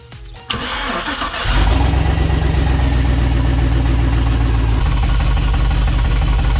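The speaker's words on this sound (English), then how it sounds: "I guess the next thing to do is crank it over and see if they're moving" A car engine cranks over briefly, then catches and settles into a loud, steady, rhythmic idle that runs to the end, with no talking.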